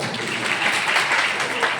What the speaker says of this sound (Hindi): तो ताली तो बजा दो